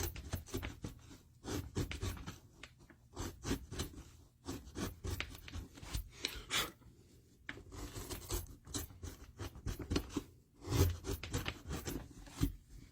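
A sharp gouge scrapes and shaves wood during relief carving, working across the grain in short rasping strokes, close and quiet, in irregular bursts with brief pauses.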